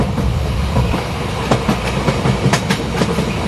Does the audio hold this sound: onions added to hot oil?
no